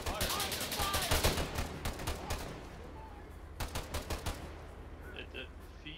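Automatic gunfire rings out in an ArmA 3 firefight, loud bursts of rapid shots packed together early on, then thinning into shorter, spaced volleys with quieter gaps as the engagement continues.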